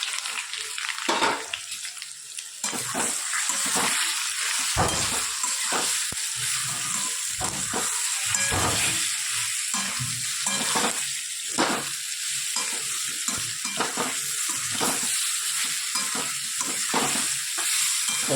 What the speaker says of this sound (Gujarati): આપણે એના અંદર નાખીશું થોડા તલ અને નાખી દઈએ પાતરા